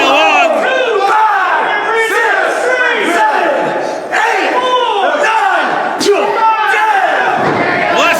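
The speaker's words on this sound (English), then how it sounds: "Crowd counting along." A wrestling crowd at an indie match chants a count in unison, loud rhythmic shouted beats repeating roughly every half second, close and dense, filling the whole stretch.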